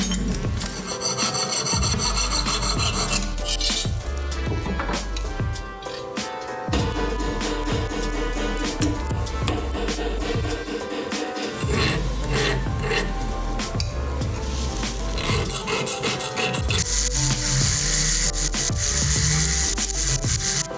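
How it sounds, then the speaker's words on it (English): A jeweller's hand saw rasps back and forth in steady, gritty strokes, with brief pauses and scraping as it cuts off a piece of metal up close. "the pieces that I fabricate start, depending on what you're making, with sawing off a piece"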